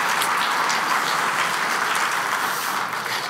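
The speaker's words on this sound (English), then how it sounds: "Can I get a round of applause for Shannon?" A conference audience at a technology event breaks into steady applause, a dense, even clatter of many hands that continues without a break and only tapers slightly at the end.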